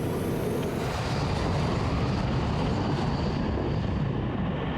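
A C-5 Galaxy military transport jet takes off at full thrust, its engines giving a loud, dense, steady roar that fills the whole stretch without a break.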